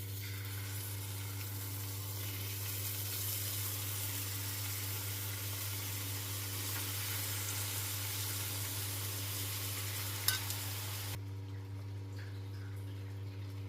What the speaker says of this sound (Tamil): இப்போது அந்த பேனில் ஒரு ப்ரானாக எடுத்து நம்ம வச்சு தவா ஃப்ரை பண்ணி எடுக்க போகிறோம்.